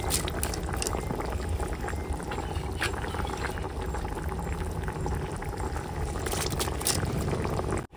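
Rice for a wedding meal boils vigorously in a pot, a continuous close bubbling and churning roar that holds steady throughout.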